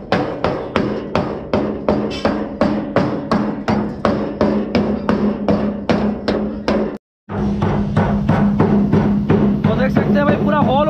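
Rust being knocked off a rotted pickup truck body before welding, a loud, steady run of rhythmic metallic hammer-like strikes that stops briefly, then resumes at the same pace, with faint talk.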